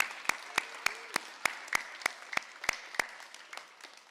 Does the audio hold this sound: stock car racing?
no